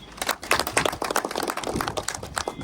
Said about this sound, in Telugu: big clap